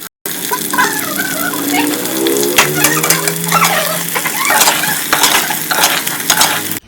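Ridge gourd curry being tempered in hot oil sizzles and spits loudly and steadily at close range, with metal clinks of stirring throughout.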